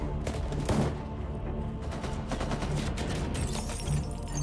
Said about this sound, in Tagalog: nakipagpalitan siya ng putok ng baril sa mga tauhan ni Carlos